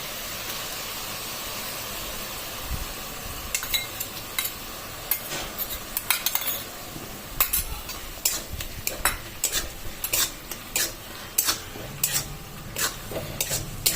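Ginger paste frying over fried onions in a pan while making Bengali chicken kosha, a soft continuous sizzle with a spoon scraping and knocking against the pan in irregular bursts that grow busier toward the end.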